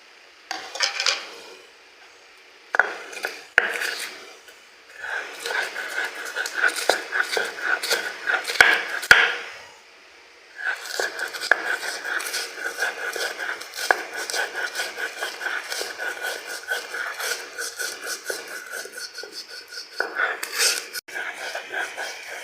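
Fried dried loitta fish is ground for a bharta, giving a rhythmic series of close scraping and knocking strokes with brief pauses between bursts.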